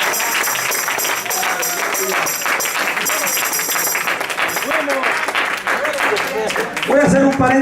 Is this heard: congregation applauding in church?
yes